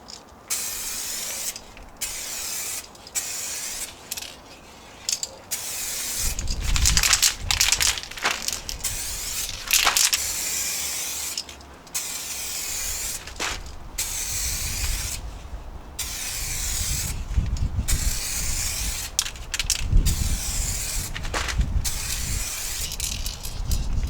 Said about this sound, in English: when I spray it, it doesn't cover evenly